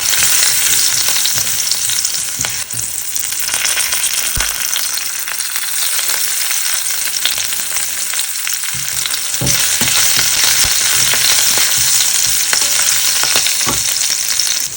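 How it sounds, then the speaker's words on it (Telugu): A tempering of fenugreek, asafoetida and coarsely crushed garlic fries in hot oil, giving a close, loud and steady sizzle with crackles throughout and no talking. "ఆ పోపు వేగినట్టు తెలుస్తుంది కదా మనకి కొంచెం"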